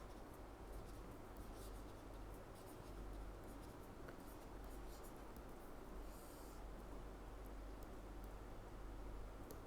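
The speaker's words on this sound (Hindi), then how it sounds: "तो मैं यहां पर पहले लिख रहा हूं बजटेड कॉस्ट" A teacher writes terms on a board during a costing lecture: faint, continuous scratchy strokes over a steady background hiss, close by, with no clear talking.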